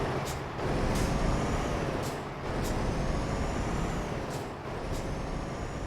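A Volvo 670 truck's engine drones loud and steady in American Truck Simulator. Sharp air-brake hisses and clicks break the drone at irregular intervals.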